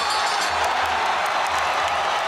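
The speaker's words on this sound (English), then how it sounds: "The crowd going bananas in Singapore for him, just like they did in Ho Chi Minh City." A packed arena crowd at a ONE Championship fight in Singapore roars steadily, loud and continuous, with a dense wash of cheering and a few higher whoops and claps rising out of it.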